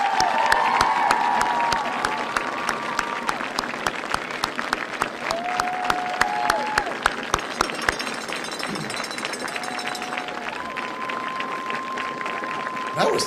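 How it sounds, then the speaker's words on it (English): High school graduation crowd applauds and cheers loudly and continuously, with dense clapping, sharp individual claps and whistles and shouts rising above it. "if we could we have a thunderous round of applause for this beautiful group of"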